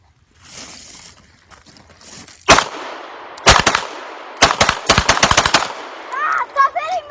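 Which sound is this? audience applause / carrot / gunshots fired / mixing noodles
gunshots fired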